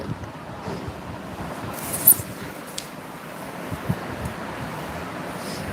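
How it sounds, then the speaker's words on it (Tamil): Soft, steady wind blowing outdoors, a low rushing hiss with a few faint gusts and small knocks scattered through it. "வெளியே நல்லா சூப்பராக காற்றடிக்குது"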